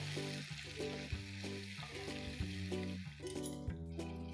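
Onion and tomato puree frying in a pan, a soft steady sizzle running low beneath prominent background music, quiet throughout with no talking.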